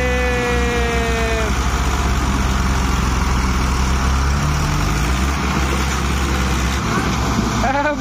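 A New Holland tractor hauling a stuck trolley gives off a loud, low, continuous engine drone, with a brief rising whine near the start, while people talk over it.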